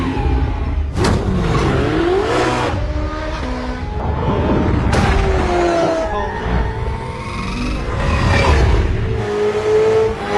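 Luxury sports car on a test drive from a showroom, its engine revving and surging in repeated loud accelerations with rising and falling pitch, close and powerful, with a hint of tyre noise.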